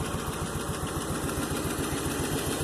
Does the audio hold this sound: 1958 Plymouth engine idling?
yes